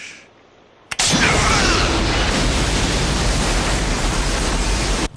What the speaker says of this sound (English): Quite an explosion.